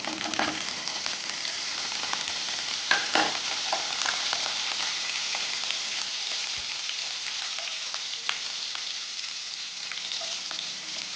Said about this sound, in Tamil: எண்ணெய் சூடான பிறகு கட் பண்ணி வச்சுருக்க இஞ்சி பூண்டு சேர்த்துக்கோங்க.